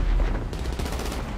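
Gunfire in GTA 5 Online during a casino heist prep mission, a dense burst of loud shots rolling continuously like automatic fire, close and alone with no talk.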